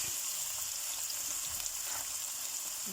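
Bell peppers sizzle and fry in a hot pan for a gratin of potatoes and minced meat, a steady close crackling hiss that holds without break and with no talking over it.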